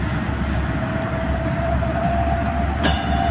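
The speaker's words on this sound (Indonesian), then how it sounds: "kereta atau gerbong bermuatan" Flat railway wagons loaded with ballast stone roll toward a tunnel on a high-speed rail construction project in Indonesia, producing a loud continuous rumble with a sustained wheel squeal and a sharp metallic clank near the end.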